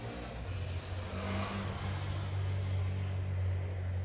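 A motorcycle revs close by, a steady low engine drone swelling slightly and holding loud across the whole stretch, with no voices over it.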